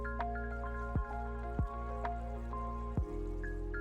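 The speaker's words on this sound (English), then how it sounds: "That fountain being underneath the water is actually a smart idea." Water drips into a pond from a fountain sunk underwater on an island in the game Dinkum. A few sharp, clear drops land at uneven intervals over a steady background hum.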